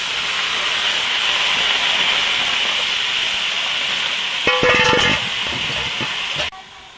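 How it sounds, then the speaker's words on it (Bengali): Greens dropped into a hot wok for a Bengali dish hiss and sizzle steadily, loud and close, with a brief clatter of utensils midway before the sizzle drops lower near the end. "কড়াইতে শাকটা দিয়ে দেবো।"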